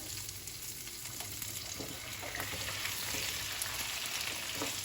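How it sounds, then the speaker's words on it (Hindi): Tomatoes fry in a pan for Hyderabadi paneer, a dense, even sizzle that swells slightly partway through, with soft stirring clicks and no speech. "तो इसको अच्छे से भून लेंगे और इसमें ऐड कर देंगे हम टमाटर।"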